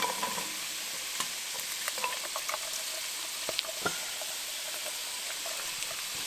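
A large batch of onions and garlic fries in a pan at a snowy winter campsite, a quiet, thin sizzle broken by scattered soft clicks and scrapes from stirring.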